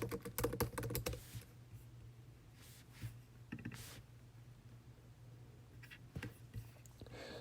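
Computer keyboard keys clatter in a rapid, close flurry at first, then give way to sparse, scattered clicks and taps with quiet gaps between them.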